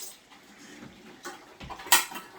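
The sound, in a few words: opening a jar of ratatouille sauce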